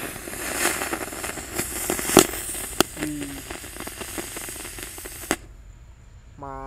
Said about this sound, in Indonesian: Selanjutnya ini gangsing yang jumbo, gangsing pretek guys, kita nyalakan 2 sekaligus ya.